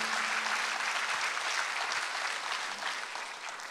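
A church congregation at a Sunday worship service breaks into applause, a dense, even hiss of many hands clapping at moderate distance, steady throughout with no speech over it.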